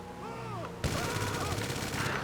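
Rapid automatic gunfire from a car-mounted gun in GTA 5 Online starts abruptly and rattles on steadily, with game-like background tones underneath.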